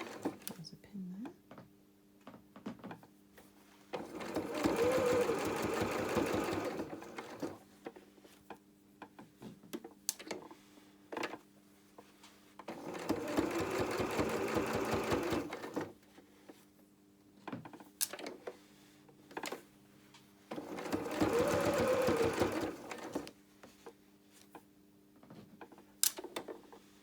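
Sewing machine stitching felt flower petals, three separate bursts of steady mechanical whirring with quiet pauses between them, plus small handling ticks and clicks.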